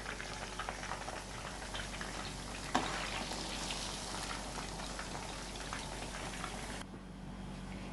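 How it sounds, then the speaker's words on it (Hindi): Soya nutri balls deep-fry in hot oil with a dense, even bubbling crackle, one sharp click partway through, and the frying noise dropping slightly near the end. "ऐसे करके मैं सारी की सारी न्यूट्री बॉल्स को फ्राई कर लूँगी।"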